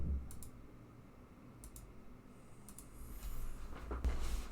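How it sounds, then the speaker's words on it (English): Computer mouse clicks from right-clicking through disk setup menus, several sharp faint clicks spaced apart over a steady low hum. "We right click, initialize disk."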